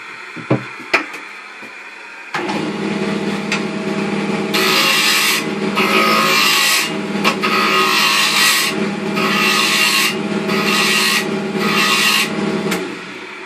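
A close, loud tool scrapes a spinning oak door stop on a wood lathe, an ongoing rasping hum broken into repeated bursts of harsh cutting as the blade is pressed in and eased off, after a few taps at the start.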